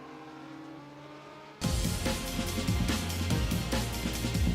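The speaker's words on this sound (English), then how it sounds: "If you can make yourself heard over big banger Can-Am cars and T70s" Big-banger Can-Am and Lola T70 race cars at a Silverstone classic meeting, a quiet background rumble that suddenly gives way to loud, close engine roar with pulsing revs.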